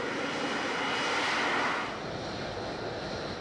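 An F-35B fighter jet engine roars during a vertical landing aboard an aircraft carrier, a dense, loud, steady blast of jet noise that eases slightly partway through, with no voices.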